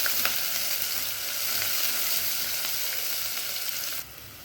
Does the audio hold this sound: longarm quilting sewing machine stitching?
no